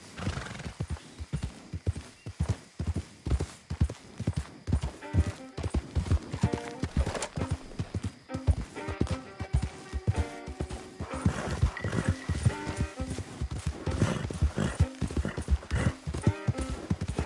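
Horse in Red Dead Redemption 2 galloping with rapid rhythmic clip-clop hoofbeats, up close and fairly loud, broken by neighs and whinnies partway through, with no speech.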